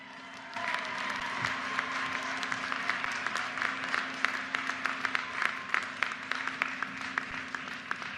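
A large audience at the University of Maryland commencement in College Park applauds, a dense, even wash of clapping that starts abruptly and holds steady, heard from a distance.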